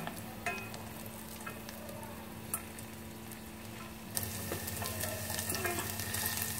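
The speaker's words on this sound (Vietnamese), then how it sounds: "cho cái hành tím băm nhỏ mình vào phi thơm lên" Oil sizzles and crackles steadily in a small pot as chopped shallots fry, with occasional sharp ticks and clicks as the pan is stirred, growing livelier near the end.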